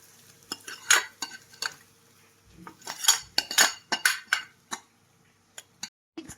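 A spoon or spatula stirs mustard greens curry in a pan, with irregular close metallic clinks and scrapes in bursts and short quiet gaps between them, no talking.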